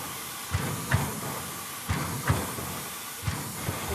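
French steam locomotive 140-C-27 on the Cévennes line, chuffing in a slow, heavy rhythm with regular low exhaust beats over a constant hiss of escaping steam, close by.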